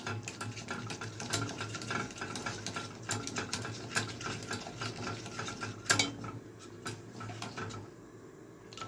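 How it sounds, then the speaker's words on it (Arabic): Flour being stirred into melted butter and milk in a pot to make a sauce, with steady scraping and clinking of a spoon against the pan throughout, close and moderately loud, with no talking. "وهقلب كويس جدا عشان ايه ما يكلكعش مني"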